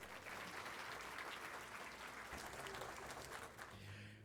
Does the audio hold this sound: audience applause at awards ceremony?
yes